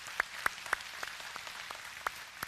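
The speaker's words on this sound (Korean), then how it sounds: "우리 하나님께 영광의 박수 올리겠습니다." A church congregation at a Sunday morning service claps faintly, with sparse, distinct hand claps scattered across a couple of seconds in a quiet room.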